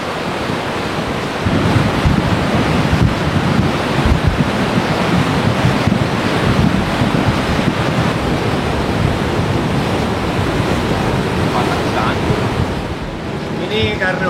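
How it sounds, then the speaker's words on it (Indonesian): Rocks knocked along by a torrent of rainwater after about two hours of heavy rain near Lake Toba, Silalahi: a loud, steady roar of rushing water with dense low rumbling and clatter throughout, no talk. "Ini air yang dari atas turun ke bawah semua sampai akhirnya menggerakkan batu-batu. Nah, suara ini tuh suara batu-batu."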